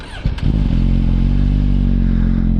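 A warmed-up Suzuki GSX-R 1000 with a Yoshimura AT2 slip-on exhaust starts with a short cranking clatter, then catches and settles into a loud, deep, steady idle rumble close by.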